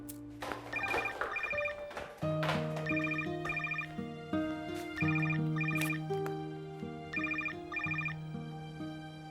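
A mobile phone ringtone plays a bright, melodic electronic tune that repeats in short phrases, clear and close, with no voices.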